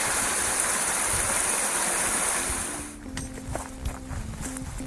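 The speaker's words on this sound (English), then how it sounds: "babbling brook" A babbling brook on a marsh trail flows in a steady broadband rush that fades out after about two and a half seconds, giving way to quieter trickling and splashing water close by.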